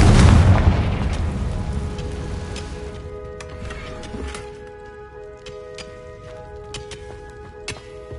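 Confringo blasting spell going off in a wizarding game, a loud booming explosion up front that rumbles and decays over several seconds into scattered debris pops and faint ringing tones.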